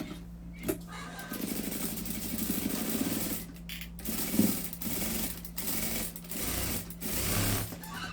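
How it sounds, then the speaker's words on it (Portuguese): Sewing machine stitching a seam on a cloth doll, heard close up as bursts of rapid mechanical whirring and needle clatter with brief pauses and handling clicks between runs. "E vou passar uma costura."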